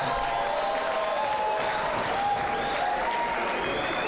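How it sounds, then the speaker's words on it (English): Crowd applause for two boxers at an amateur boxing event, a steady, fairly distant wash of clapping that continues throughout. "Ladies and gentlemen, let's give both boxers a big round of applause."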